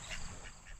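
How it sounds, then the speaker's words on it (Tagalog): Domestic ducks on a farm give a couple of faint, short quacks at a distance over low background noise. "Yung ating alagang itik oh."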